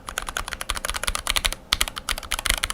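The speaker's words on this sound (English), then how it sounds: "You have like a keyboard that feels like it's been lubed with a really thin lube." Rapid typing on a keyboard with thinly lubed switches, soft, clacky keystrokes in quick irregular bursts, close up and alone.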